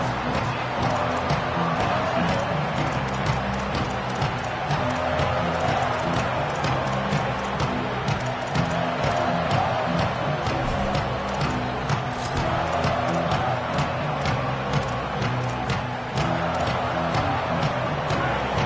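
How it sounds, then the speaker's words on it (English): A large stadium crowd at a football game roars steadily, a dense continuous wash of cheering and noise with scattered sharper bursts, distant and sustained throughout. "Listen to the crowd energy here in the early going."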